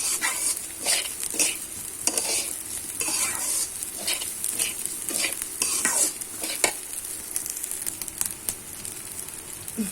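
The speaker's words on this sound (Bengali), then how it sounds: "এই পোলাওটা হয় সুন্দর, একটু ভাজা ভাজা করে দিবি।" Rice fries in ghee for pulao, with a steady close sizzle and frequent scraping stirs of the spoon against the pan throughout, and no talking.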